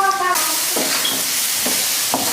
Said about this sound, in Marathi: मग थोडं परतून घेऊ.